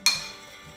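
Garlic powder and Italian seasoning mixed in a bowl, heard as a single brief, close clink of a utensil against the dish that rings out faintly.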